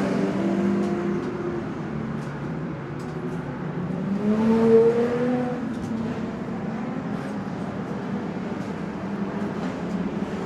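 Stock cars racing at TWS Paradise Valley Speedway in Rotorua, a steady distant engine drone with one car's revving whine rising and passing mid-way before settling back into the continuous roar.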